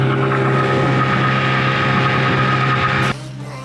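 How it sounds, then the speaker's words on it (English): A small dinghy outboard engine drones loudly and steadily up close for about three seconds, then abruptly drops to a quieter, lower idle. "Got the engine fixed, purring."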